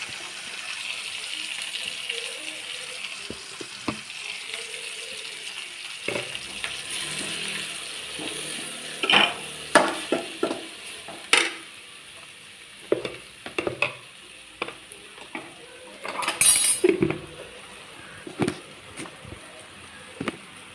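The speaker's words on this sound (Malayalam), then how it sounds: "ചെറിയ ഫ്ലെയിമിലൊന്ന് വഴറ്റാം" Tomato and onion sautéing over a low flame, a soft continuous sizzle under intermittent sharp scrapes and clinks of a spoon stirring against the pan, louder bursts of stirring in the second half.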